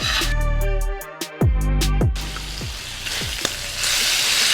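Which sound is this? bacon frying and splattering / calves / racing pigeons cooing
bacon frying and splattering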